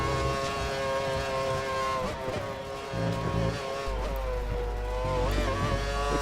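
Lotus Formula 1 race car engine in the F1 2013 video game at Silverstone, a loud sustained high-pitched whine that shifts pitch through gear changes, with steady rumbling road noise beneath.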